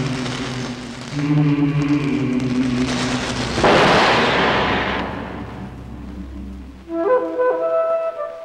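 A loud firecracker bursts in a sharp crackling blast that fades, with music-like tones before and after, in a Tamil comedy scene.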